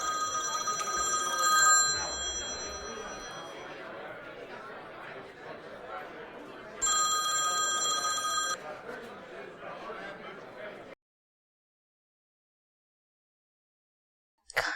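A telephone rings unanswered in two bursts of electronic trilling, one near the start and another midway, while several people talk over it. The room then drops into near silence before a brief noise at the end.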